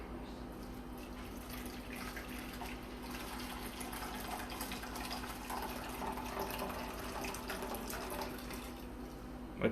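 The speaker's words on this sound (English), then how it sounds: "And now I'm going to use the actual tea water to go into the pot." Tea water is poured into a pot of rice, a faint continuous trickle and splash of liquid over a low steady hum, with a small knock at the end.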